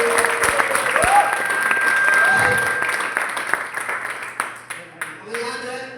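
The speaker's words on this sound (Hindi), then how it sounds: "हमारे ग्रेट गुरुदेव जितेंद्र कुमार मौर्य को भी जोरदार ताली होनी चाहिए" An audience at a Blue Diamond party gathering breaks into steady clapping and applause that runs for several seconds before fading, mixed with a voice on a microphone and crowd noise.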